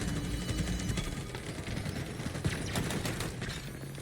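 Rapid gunfire bursts from a Halo Infinite Big Team Battle match, dense overlapping shots and mechanical clatter sustained at steady loudness across the whole stretch, with no voices.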